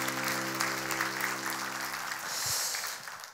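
A church congregation applauds after a call to give glory to God, a steady wash of clapping running the full few seconds under a sustained organ-like tone that drops out partway through.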